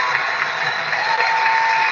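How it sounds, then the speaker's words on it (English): Steady applause from an audience, a dense even wash of clapping that holds at a constant level without a break. "That's not sarcastic applause"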